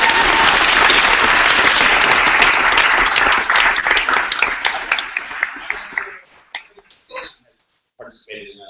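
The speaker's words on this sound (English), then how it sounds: "So really give yourselves a huge round of applause." A crowd at a startup weekend event bursts into loud, dense applause that holds steady for a few seconds, then thins into scattered individual claps and fades out, with voices heard as it dies down.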